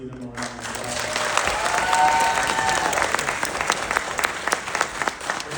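Audience applause for graduates at a school ceremony, sustained and fairly loud crowd clapping that builds early and holds steady throughout, with some voices mixed in.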